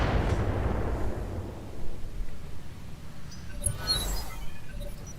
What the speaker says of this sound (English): Oh god, we got missiles.